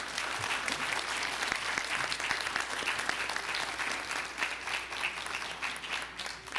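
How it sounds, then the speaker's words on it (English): Steady applause from the audience at a city commission meeting, a dense, even wash of many hands clapping that holds at a constant level from start to finish with no talking over it. "Big round of applause for those two."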